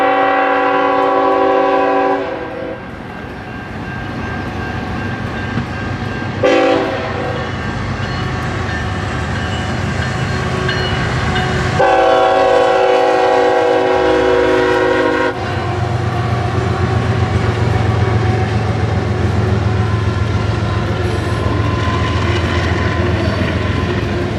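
Several freight trains pass close by at a busy Midwest rail junction, loud continuous rumbling and wheel clatter with long horn blasts sounding over the roar.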